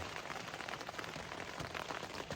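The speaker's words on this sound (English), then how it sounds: "It's really coming down. It's coming down like waves, almost like sheets of rain." Heavy rain pours down in dense, steady sheets on a wet trail near Snoqualmie Pass, a continuous broadband wash with no break and no voices.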